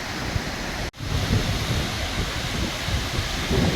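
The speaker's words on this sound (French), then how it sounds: "Un souffle de la cascade qui est absolument extraordinaire." The Bao Loc cascades roar as a steady, dense rush of falling water, loud and close, broken by one brief dropout before the torrent resumes unchanged.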